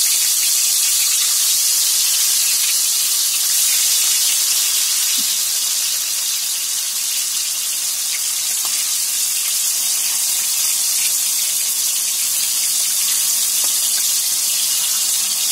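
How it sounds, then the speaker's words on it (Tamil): Chilli-coated rock fish fry in hot oil, giving a dense, steady sizzling hiss that stays loud and unbroken from start to finish. "எண்ணெய் காஞ்சிருச்சு இப்போ நம்ம மீன் போடலாம் நம்ம அந்த முளகாய் தூள்ல பிரட்டி வச்ச மீன் போடலாம்"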